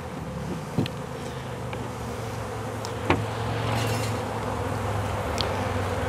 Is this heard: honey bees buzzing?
yes